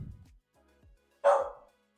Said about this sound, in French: le chien, il sonne rien que dans mon micro et tout.